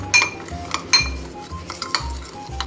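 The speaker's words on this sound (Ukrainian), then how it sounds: "додаємо гірчицю, олії та сіль. Перемішуємо." Meat mixed with mustard, oil and salt in a bowl, a spoon scraping and clinking against the dish in several close, uneven strokes with soft wet squelches between them.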